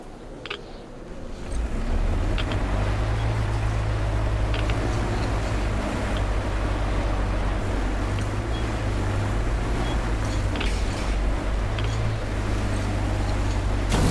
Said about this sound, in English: Take the wheel, Artyom. I'll handle the navigation